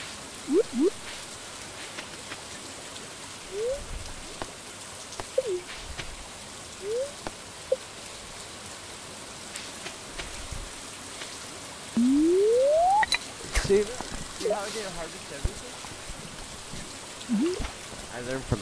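Steady rain patters on a surface throughout in the video game Stardew Valley while fishing, with occasional rising electronic chirp tones and a few sharp clicks mixed in.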